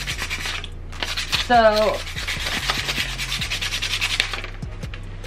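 Sandpaper is rubbed over a tumbler dome lid in quick, close, rhythmic scratchy strokes that run steadily throughout, with a brief spoken word near the start.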